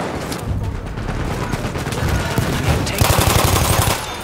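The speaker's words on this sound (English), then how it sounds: "Enemy machine gun!" Enemy machine gun fire rattles in a rapid, sustained burst during Battlefield 1 Conquest multiplayer combat, loud and close, with overlapping gunshots and a brief shouted voice in the chaos.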